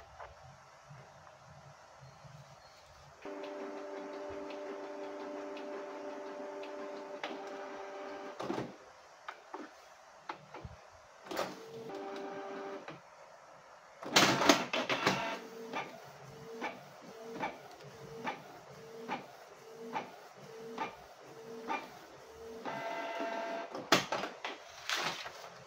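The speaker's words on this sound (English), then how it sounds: "And let's try to print the pattern." Canon Pixma G-series inkjet printer running a test pattern indoors: a steady motor whir, then a long run of regular clicks and ticks as the print head shuttles, fairly quiet and close.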